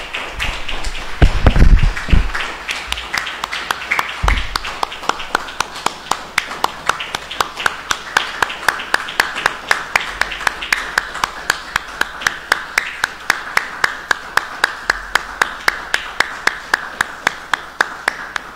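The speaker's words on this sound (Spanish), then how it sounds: "me gustaría pues pedirles un aplauso en memoria también de los caídos y las caídas" Audience applause at a Mexican public-university anniversary event, offered in memory of the fallen: after a few louder claps, a steady rhythmic clapping settles in, nearly in unison and fairly close, running alone without speech.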